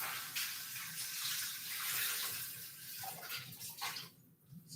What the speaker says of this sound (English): So I've rinsed my cloth out.